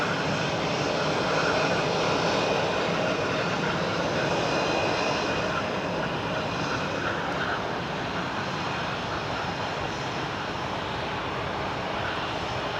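An airplane takes off from Munich airport on runway 26 right, bound for Heathrow. Its engines give a loud, sustained roar that stays strong and steady throughout, with no voices.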